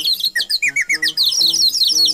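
Nightingale whistling plays as a radio sound effect: a rapid run of bright chirps and warbling trills, loud and close, repeating in quick bursts over a steady lower musical tone.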